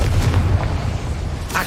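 A Confringo blasting spell goes off in Hogwarts Legacy as a deep, booming explosion with a rumbling tail, loud throughout, ending with a brief brighter crackle.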